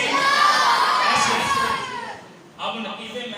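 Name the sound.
crowd shouting religious slogan in response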